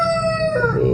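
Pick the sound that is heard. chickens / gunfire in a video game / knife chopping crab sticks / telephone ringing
chickens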